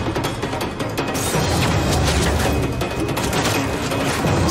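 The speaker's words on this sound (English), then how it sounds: "Start putting shells downrange! Use the mortar and hose those bastards down!" Mortar and gunfire battle from a rooftop in Call of Duty Modern Warfare 3: loud, dense, continuous rumbling blasts and crackling fire filling the whole stretch, no speech.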